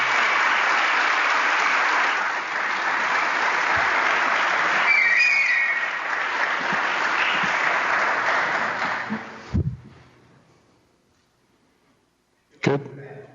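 An audience at a technical conference applauds the volunteers with sustained clapping for about nine seconds, then it fades to near silence before a brief thump.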